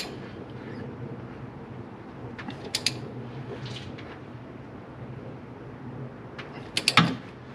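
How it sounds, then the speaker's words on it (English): Wrenches work on the strut top hat nut and shaft of a 2011 Honda Odyssey front end, producing faint creaks and a few sharp metallic ratchet clicks, with one louder clatter near the end. "I'm holding the wrench on the nut to keep it in place and then tightening the shaft"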